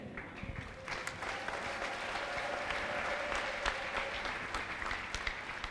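A church congregation applauds at a prophetic worship service, a dense, steady wash of many hands clapping that carries on without a break for several seconds at moderate loudness.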